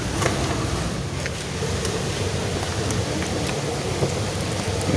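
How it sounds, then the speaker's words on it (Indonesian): Water poured over bonsai planting media: steady close splashing and trickling, a continuous wash of spattering water with no pauses. "Tinggal kita siram sahabat, agar lebih padat ya medianya."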